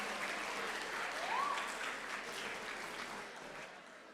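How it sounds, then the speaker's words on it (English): A school assembly audience gives the color guard a round of applause, a continuous, fairly faint patter of many hands clapping from across a hall, with a brief whistle-like tone rising in the middle. "we need a big round of applause for the color guard"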